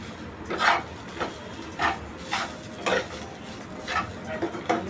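A spoon scrapes and stirs coriander and roasted dry coconut in a pan in steady, evenly spaced strokes, each a short rasping swipe, close and fairly loud.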